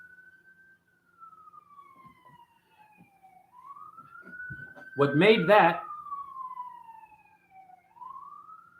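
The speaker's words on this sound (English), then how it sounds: "Can you hear sirens?" A siren wails at a distance, slowly rising and falling over several long sweeps, while someone speaks briefly in the foreground partway through.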